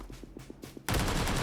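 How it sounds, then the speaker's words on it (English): Gunfire in the shooter game PUBG Lite: a quick run of faint rhythmic shots, then a sudden loud, dense burst of automatic fire that fills the rest of the moment. "oh, who's shooting?"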